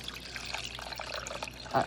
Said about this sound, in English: Pouring that in so it has all the seasonings that those turkey tails had.